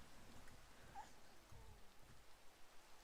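Rain falls in the Minecraft video game as a soft, steady hiss that runs unbroken and faint throughout, with no voices.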